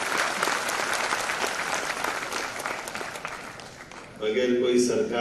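Sustained, loud applause from an audience welcomes an honoured guest at the inauguration of an international literature and arts festival. It continues steadily for several seconds before a voice starts speaking over the fading clapping.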